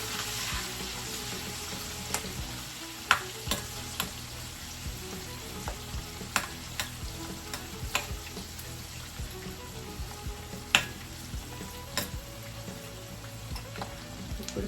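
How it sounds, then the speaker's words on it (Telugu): Onions frying in a pan, a soft, steady sizzle at low volume with scattered light clicks and taps of a utensil throughout, no speech. "తర్వాత ఆనియన్స్ వేసుకున్నాము. ఆనియన్స్ కొంచెం ఫ్రై అవ్వాలి."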